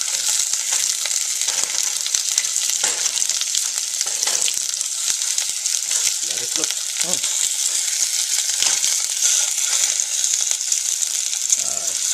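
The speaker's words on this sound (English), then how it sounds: "we'll come back to our yuca as it's stir frying" Yuca being stir-fried in a pan, a steady, dense sizzle with crackling pops and occasional stirring scrapes running throughout at constant loudness, no speech.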